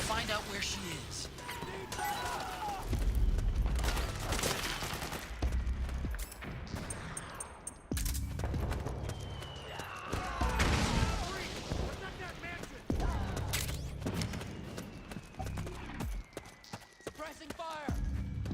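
Gunfire in the video game Metal Gear Solid 4, with repeated shots and bursts amid battle noise, crashes and shouting voices across a long, busy stretch.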